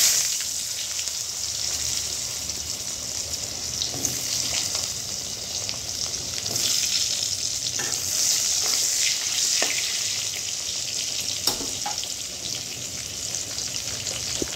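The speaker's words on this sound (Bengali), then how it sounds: "এবার ওই কড়াইয়ের মধ্যে তেলের মধ্যে দিয়ে দেবো আলুগুলো" Steady, busy sizzling of potatoes frying in hot oil in a wok, with faint crackles and occasional clinks of stirring throughout, no voices.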